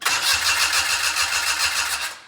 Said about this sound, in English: that starter sounds healthy, which is great